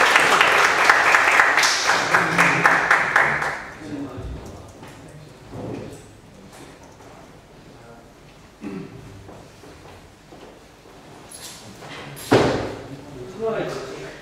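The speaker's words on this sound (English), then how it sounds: "let's just finally have another round of applause" A burst of applause fills the room for several seconds, fading out into scattered claps, thumps and murmuring voices.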